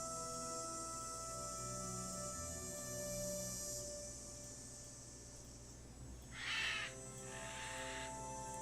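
A crow caws repeatedly outdoors at night, its harsh calls standing out over a steady hiss of insects such as crickets.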